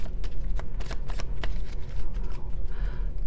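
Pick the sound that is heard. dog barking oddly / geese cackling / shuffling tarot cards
shuffling tarot cards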